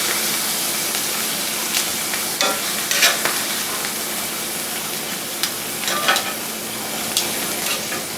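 Marinated ribeye bulgogi with garlic, sesame, soy and gochujang paste sizzles steadily in a pan, a constant frying hiss punctuated by a few louder crackles and stirring scrapes.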